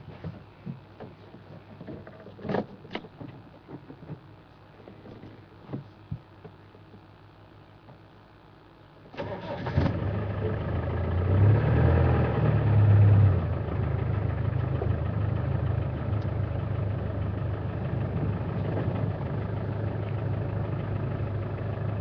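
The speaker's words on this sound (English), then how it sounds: "let's take a drive a little bit further along and see if there's any more that we can see this morning" A safari vehicle in the bush at dawn, its engine starting up after a quiet stretch and then running as a steady, close motor rumble while it drives on.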